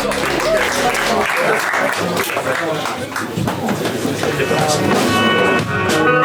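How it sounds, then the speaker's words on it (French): A concert audience at a Stranger Things themed event bursts into loud, sustained applause. Dense clapping fills the space, with shouting voices and some musical tones underneath. "Tonnerre d'applaudissements pour Kylian."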